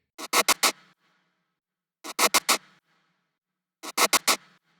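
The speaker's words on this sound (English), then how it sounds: "a section chopped from a loop within the Mutant Blasters glitch fills pack" Three short bursts of chopped, stuttering glitchy noise from the Futurephonic Mutant Blasters glitch fills pack, each a rapid cluster of harsh hits, repeating at even intervals with silence between.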